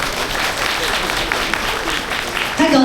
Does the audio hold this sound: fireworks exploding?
no